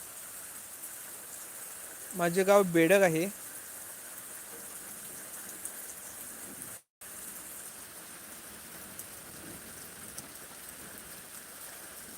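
Steady rain falls in Miraj taluka, Sangli district, a constant soft hiss that runs through the whole stretch, with someone speaking briefly near the start.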